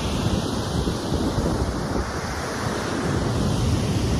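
Nugget Falls, the waterfall beside Mendenhall Glacier, thunders as a steady, loud broadband roar of falling water with heavy wind buffeting the microphone and no pauses.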